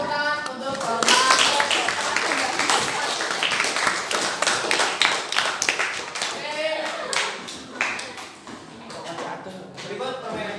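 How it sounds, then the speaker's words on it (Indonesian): A classroom of students claps for their teacher, a burst of sharp, uneven hand claps close by that swells, then thins into scattered claps with voices talking in the room. "kita kasih tepuk tangan untuk Bapak"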